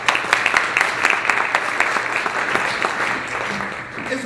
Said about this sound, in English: you give yourself a round of applause.